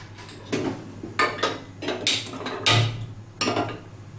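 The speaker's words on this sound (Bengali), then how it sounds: "এখানে আমি একটা ফ্রাই প্যান বসিয়ে নিয়েছি।" A frying pan is set on the stove while cooking egg potato bharta, with a series of sharp metallic clanks and knocks spaced irregularly, close and fairly loud, without any talking.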